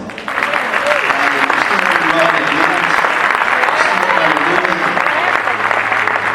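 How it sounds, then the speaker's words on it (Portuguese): Church congregation applauding the Lord at an evening service, loud sustained clapping from many hands with voices calling out over it and a brief spoken praise near the start. "Aplaudam o Senhor."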